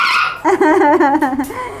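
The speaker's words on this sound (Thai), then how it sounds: "เวลาลูกหมาส่งเสียงเรียก เรียกร้องเล่นเล่นเหรอลูกใช่ครับ" A Shiba Inu puppy barks and yips in a quick run of high, close bursts, loud and fairly steady for over a second after a brief faint start.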